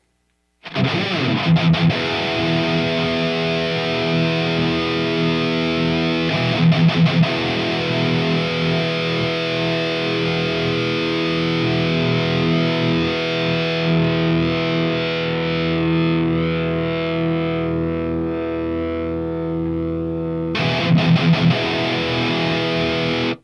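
An electric guitar plays loud and sustained through a distorted amp model on a Fender Tone Master Pro. Held, ringing chords carry throughout, with sharper re-struck attacks near the start, around seven seconds and again near twenty-one seconds.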